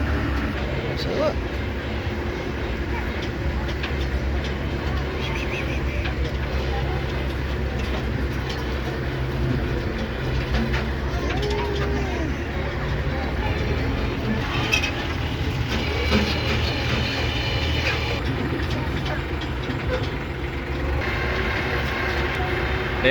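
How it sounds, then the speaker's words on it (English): A little ride-on train pulled by a red compact diesel tractor at a classic car cruise-in makes a steady, low engine rumble throughout, with people talking and crowd noise mixed in. "They have a little red compact diesel tractor as the engine, train engine."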